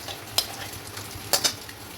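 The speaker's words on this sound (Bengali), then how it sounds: "তেল গরম হয়ে গেছে, প্রথমে দুটো তেজপাতা দিয়ে দিলাম।" Bay leaves and onion frying in hot oil in a home kitchen, a steady low sizzle broken by a few short sharp spatters and the scrape of a stirring spoon.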